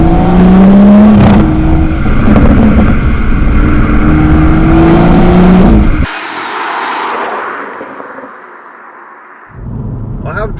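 A BMW M140i engine in Sport Plus mode revs and drones loudly up close, then cuts out abruptly, leaving quieter rumbling before the engine noise returns.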